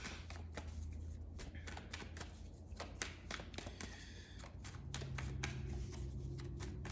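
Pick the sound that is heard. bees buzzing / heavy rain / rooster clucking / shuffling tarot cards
shuffling tarot cards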